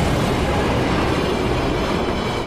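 Train rolling past on rails as a horror-film effect, a loud steady rumble with rattling wheels that holds for over two seconds and then cuts off abruptly.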